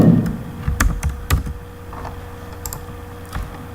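Keys clatter on a computer keyboard in a short, uneven burst of typing, with a few louder key strikes near the start and quieter taps trailing off afterward.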